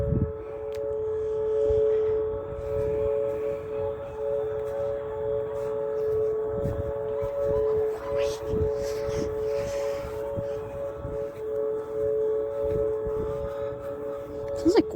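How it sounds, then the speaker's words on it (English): Civil defense tornado siren in Oklahoma wailing steadily for the whole stretch, a strong sustained tone with distant outdoor ambience and faint background noise underneath. "Sounds like West Charleston's siren."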